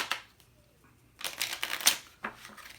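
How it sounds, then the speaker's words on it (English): A deck of playing cards is shuffled at a live beginner card magic session, making two quick bursts of riffling flutter at close range after a near-silent pause. "We're going to shuffle the deck now."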